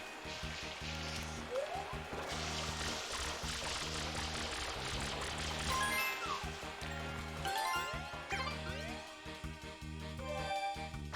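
Water pouring and splashing steadily while a tank refills from a fountain in Super Mario Sunshine, with tinkling, bubbling game effects and light chimes layered continuously throughout.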